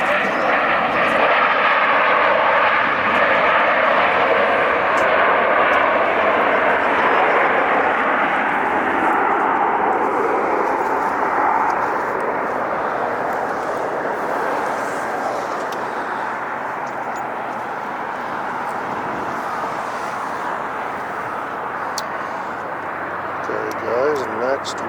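A JetBlue airliner lands at LAX, its engines a loud, continuous roar that holds for the whole stretch and slowly eases as the plane passes.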